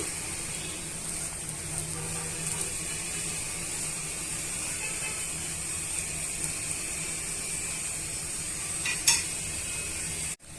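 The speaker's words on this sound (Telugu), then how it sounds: "సేమియా ఉప్మా ఇలా ఒక రెండు నిమిషాలు వేయించుకోవాలి" Vermicelli being dry-roasted for semiya upma in a pan gives a steady, close hiss and scrape of stirring that runs evenly throughout, ending with a brief knock.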